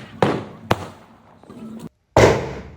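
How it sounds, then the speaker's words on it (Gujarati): Sky shot fireworks burst during Diwali celebrations in Jamnagar, with four sharp, loud, close bangs at uneven intervals, each fading into a crackling tail and one ending in a brief silence. "કાકાએ વળી પાછો સ્કાય શોટ ચાલુ કર્યું."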